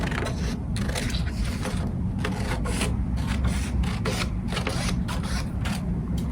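Scissors snip through thin strips of paper in a steady series of close, dry rasping cuts with no pauses, with no voices.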